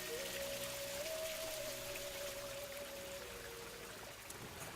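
Water from a cascade in a Japanese garden streams past in a faint, continuous trickling rush, with a thin steady tone running through much of it and no voices.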